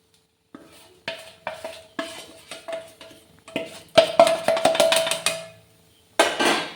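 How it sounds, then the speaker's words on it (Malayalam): A spoon stirs grated coconut and dried fish in a pan for a country-style dried-fish chutney, scraping in a run of uneven clinking, rattling strokes that grow busier and louder toward the end, with no talking. "തേങ്ങയും കൂടെ ഇട്ടിട്ട് നന്നായിട്ട് മിക്സ് ചെയ്യുക."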